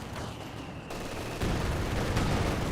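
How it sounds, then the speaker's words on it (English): 150mm mortar fire in the video game Company of Heroes 2 comes through as dense, rumbling battle noise with sudden shifts in intensity, a continuous heavy wash of explosions and gunfire, with no commentary over it. "that's probably 150mm mortar"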